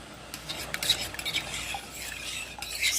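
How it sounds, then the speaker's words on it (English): A spoon scrapes and stirs through thick sticky rice in a pot, soft irregular scraping and clinks, close by with no talking. "Stir it again"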